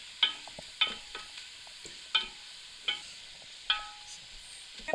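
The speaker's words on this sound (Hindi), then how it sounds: "इसको अपने हिलाते हुए फ्राई करना।" Onions frying in a pan for haleem while being stirred, with a soft steady sizzle under sharp repeated scrapes and clinks of a spoon roughly every second, close and moderately loud.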